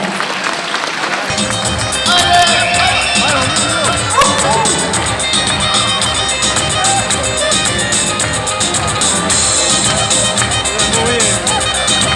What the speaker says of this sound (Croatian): Pa evo pozdravimo i njih sa jednim velikim aplauzom